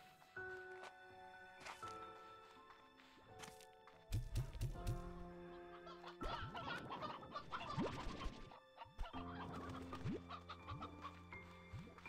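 Chicks clucking in the Slime Rancher 2 video game, a lively run of repeated clucks and chirps over a bed of game music, growing denser and louder midway before easing back.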